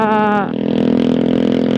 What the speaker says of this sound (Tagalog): ang ingay ng motor ni kuya